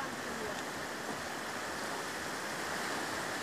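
Broad, steady roar of rushing flood water in Yamunanagar, dense and unbroken throughout, loud and close with no other sounds standing out.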